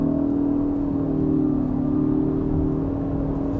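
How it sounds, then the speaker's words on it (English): A 2021 Ford Escape hybrid accelerating from 40 to 100, its engine drone steady and heard from inside the cabin, pitch rising gradually as it speeds up, with no voices. "and now we accelerate from 40 to 100."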